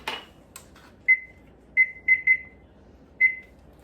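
A kitchen timer beeps as it is set while cookies bake in the oven: five short, clear, high electronic beeps at uneven intervals, with a brief clatter at the start and no talking.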